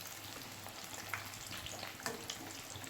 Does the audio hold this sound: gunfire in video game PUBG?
no